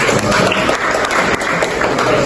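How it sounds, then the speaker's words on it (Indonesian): Students in a class clap together, a brief burst of fairly loud, dense applause lasting a couple of seconds without speech. "tepuk tangan dulu"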